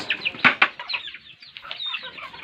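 Chickens cluck close by in a quick, busy series of overlapping calls, with louder squawks near the start.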